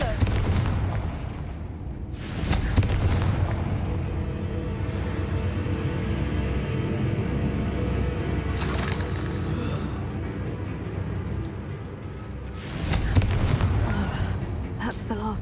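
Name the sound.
Confringo spell blasts in video game Hogwarts Legacy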